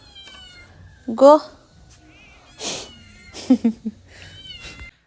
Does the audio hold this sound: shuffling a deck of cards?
no